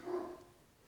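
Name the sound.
dogs barking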